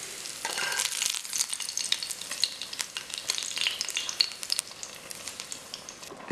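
Mustard seeds, shallots and curry leaves tempered in hot oil crackle and sizzle steadily for a Kerala-style prawn curry with drumsticks, with sharp popping bursts over a constant close frying hiss and no voices.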